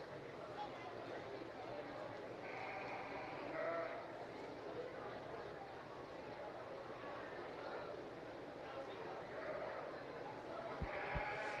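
A natural colored ewe bleats a few times in a county fair livestock show arena, the calls fairly distant and mixed into crowd murmur while an announcer talks over the scene.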